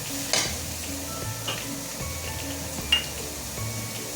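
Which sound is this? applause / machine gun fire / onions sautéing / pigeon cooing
onions sautéing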